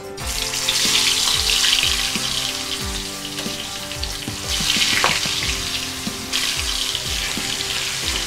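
Fish frying in a hot kadhai gives a loud, continuous hiss and crackle of oil, swelling and easing in waves, with a few metallic clicks and knocks.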